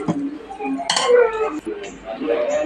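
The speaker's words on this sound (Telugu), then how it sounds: "ఉప్పు వేసుకొని ఇలా బొరుగులన్నీ పొడిలో కలిసిపోయేలా ఇలా బాగా కలుపుకోవాలి" Puffed rice (borugulu) being tossed with salt and spice powder in a bowl, with a steady run of light utensil clinks and scrapes against the dish, close by and fairly loud.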